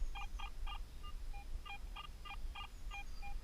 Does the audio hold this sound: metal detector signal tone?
yes